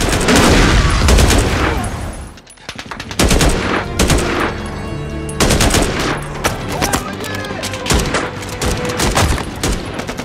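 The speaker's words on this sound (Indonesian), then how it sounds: "terjadilah baku tembak antara mereka" Rapid bursts of automatic gunfire and scattered single shots crackle through an action film shootout at a house compound, loud and dense for the whole stretch, with a brief lull near the start and music or effects layered underneath.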